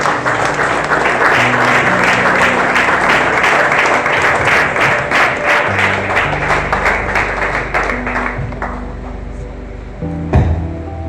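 A church congregation at an evening deliverance and healing service applauds loudly and steadily for several seconds over sustained music, and the clapping thins out toward the end.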